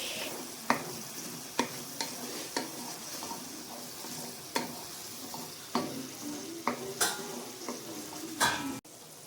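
Tomato paste masala with tomato sauce simmers on a low flame, giving a soft steady sizzle broken by sharp scrapes and taps of a spoon stirring against the pan, with no voices.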